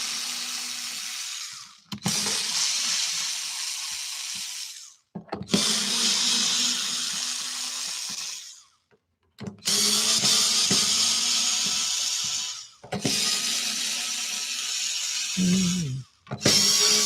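A power tool whirs in long steady runs, backing screws out of a Maxflow valve body, with four or five bursts separated by brief pauses and a lower grinding note near the end.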